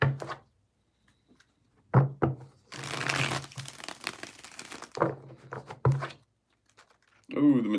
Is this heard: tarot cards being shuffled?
yes